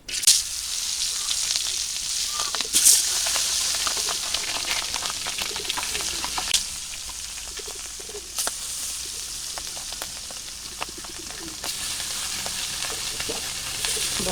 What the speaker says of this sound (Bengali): মাছ ভাজা বসাই দিলাম